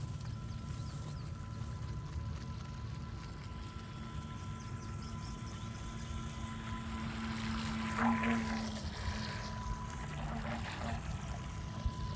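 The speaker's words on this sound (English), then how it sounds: "Definitely a beginner boat." A small Losi RC boat motor whines steadily as the boat runs on open water outdoors, a constant thin buzz over wind rumble and faint water noise, swelling slightly as it passes nearer.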